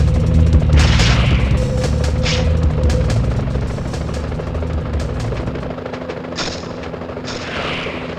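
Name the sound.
police helicopters in Spider-Man PS1 video game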